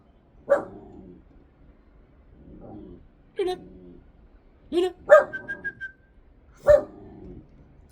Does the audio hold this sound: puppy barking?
yes